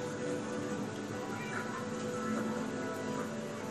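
A Minecraft cat meows in the game, a short close mewing call repeated faintly over a quiet, busy background with no talk.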